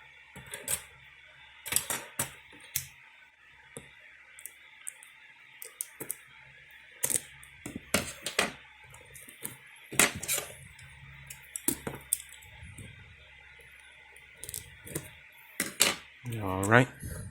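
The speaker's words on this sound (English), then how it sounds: "So let's open it up and see what's inside. Let me get my scissors" Scissors cut open the plastic packaging of an Everstart power inverter, making irregular sharp snips, clicks and crinkly rustles up close, with quiet pauses between the cuts.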